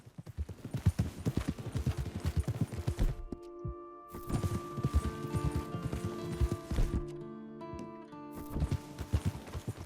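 Horse hooves clip-clop steadily in Red Dead Redemption 2, a close, rhythmic trotting pattern with brief pauses, joined by a faint whinny and low game ambience.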